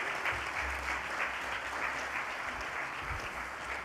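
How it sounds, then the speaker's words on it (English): Hearty audience applause at a university homecoming banquet honoring golden-anniversary alumni, a sustained, even wash of many people clapping in a large room, moderately distant and steady throughout. "Let's give these alumni a hearty round of applause."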